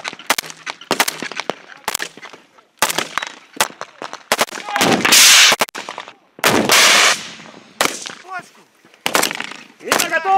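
Gunfire at a military training ground firing practice: repeated sharp shots in uneven bursts, some rapid and clustered, loud and close, with brief pauses and occasional talk between volleys.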